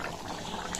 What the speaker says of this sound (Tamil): நல்லா குழம்பு கொதிச்சிருச்சு.